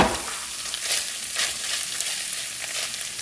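Flank steak for Cuban ropa vieja fries in olive oil in a pan, making a loud, dense, steady sizzle close up with faint stirring scrapes and no talking.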